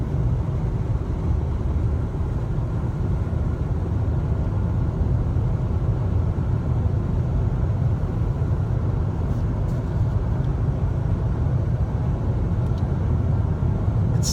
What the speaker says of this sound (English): There's no way I can drive around making this much noise.